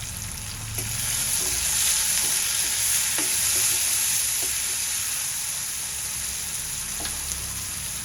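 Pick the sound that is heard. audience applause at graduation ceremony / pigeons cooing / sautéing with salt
sautéing with salt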